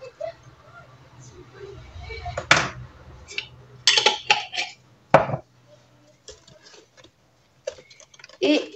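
A spoon stirs and clinks in a container of homemade laundry detergent, making a few sharp taps and scrapes against a low background hum.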